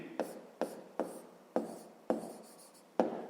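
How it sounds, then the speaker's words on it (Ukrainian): Pen or pencil writing numbers for a fifth-grade math exercise, six short scratchy strokes at irregular intervals, close and fairly quiet. "тобто пишемо так"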